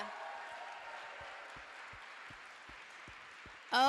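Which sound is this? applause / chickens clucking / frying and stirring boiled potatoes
applause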